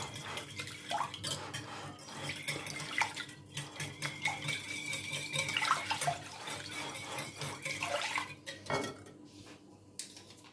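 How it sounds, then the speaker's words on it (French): Milk being whisked into a leek quiche filling in a bowl, with a steady run of metallic clinks and scrapes from the whisk against the bowl, close and fairly loud, with no talking. "Après, je mets le lait. Avec le fouet."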